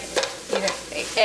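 Tofu scramble with turmeric being stirred in a pan, a few short scrapes and clinks over a soft sizzle, close and brief, with no talking.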